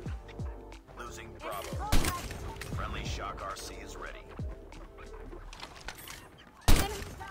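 Scattered gunshots and sharp impacts from mobile shooter game audio, with a loud burst near the end, under a busy background of effects and occasional voices.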